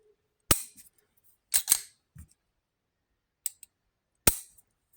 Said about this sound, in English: This is a good striker fire trigger.